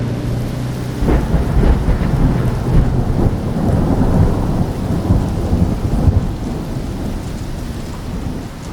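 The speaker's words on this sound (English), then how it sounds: "But that was a phenomenal storm." A tropical thunderstorm on a beach island unleashes heavy rain, a loud, dense roar of downpour with deep rolling thunder rumbling underneath, continuous and close, with no voices.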